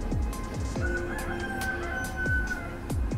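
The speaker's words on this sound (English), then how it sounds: "The old cockerel." A rooster crows once in a long drawn-out call, fairly near, with a steady outdoor background and faint periodic thumps.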